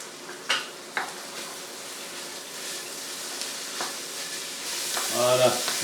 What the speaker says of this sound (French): Donc je fais revenir mes oignons